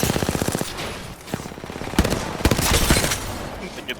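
Rapid automatic gunfire from emptying three weapon magazines in a shooter video game: fast repeated bursts of shots, loud and close, with a brief pause before heavier, denser firing resumes.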